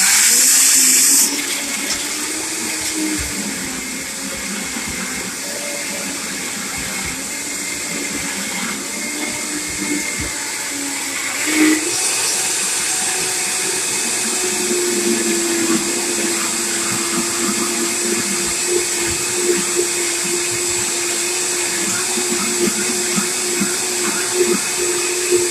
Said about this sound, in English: If you have a normal blender, you just turn it on and then you basically blend it out.